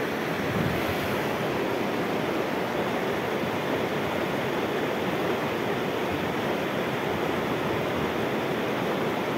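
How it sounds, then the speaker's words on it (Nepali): A river rushes steadily in rural Nepal, a loud, even roar of flowing water close by, mixed with some wind and with no voices. "कति आनन्द आउँछ होइन यो खोलाको साउन्ड"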